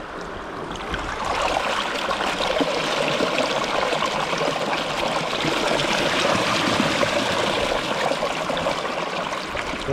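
Water pours steadily from the Beaver Deceiver pipe at a beaver dam, a continuous close rushing and splashing flow that holds at an even level throughout.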